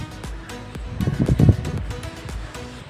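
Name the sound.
strong wind blowing on a terrace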